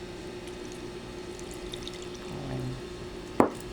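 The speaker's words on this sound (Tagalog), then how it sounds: "Tapos konting tubig." Water poured into a pan while squid adobo is being cooked, a soft, fairly quiet splash over steady kitchen background noise, ending with a sharp clink.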